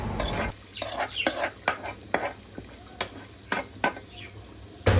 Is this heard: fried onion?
yes